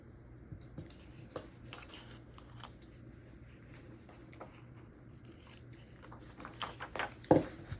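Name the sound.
scissors cutting paper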